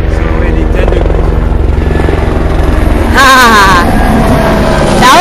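A helicopter flies over a vineyard, its loud rotor thump and whine rushing in close overhead partway through on top of wind noise and a steady background drone.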